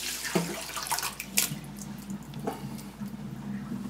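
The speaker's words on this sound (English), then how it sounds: "So the first thing I need to do is to pour the water off." Water poured off soaked acorn grits from a jar into a sieve, giving a steady close splashing and trickling stream with a few louder sloshes and drips throughout.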